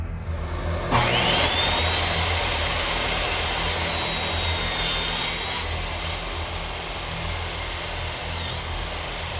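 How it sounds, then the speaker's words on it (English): A table saw with a crosscut sled cuts through walnut planks, its blade whining loudly and steadily as the wood feeds through, with the motor's drone continuing underneath. "I'll be using my crosscut sled to cut these down to size."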